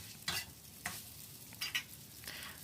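Minced pork is stir-fried in a wok over low heat for Thai basil pork, with a soft background sizzle broken by several scraping stirs of the spatula, close and fairly quiet, with no talking.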